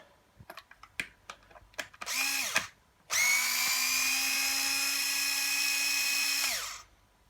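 A slim power driver bit backs star-head screws out of the front wheel housing of a Bugaboo Cameleon stroller: a few sharp clicks and taps, a short whir, then one long steady whine that stops abruptly.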